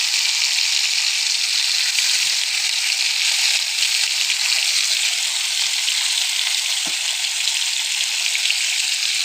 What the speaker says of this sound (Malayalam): നമ്മളെ മീനിങ്ങനെ പൊരിഞ്ഞ് വന്നിട്ടുണ്ട്.